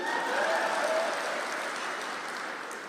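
An audience at a Hindi kavi sammelan comedy poetry recital breaks into applause, a steady wash of clapping that swells briefly and then gradually fades, fairly soft and distant.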